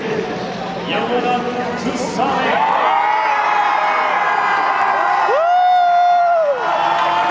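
A baseball stadium crowd at a season-opening pro game at Jamsil cheers and whoops in a loud, sustained roar, with nearby voices talking over it and a high shout rising toward the end.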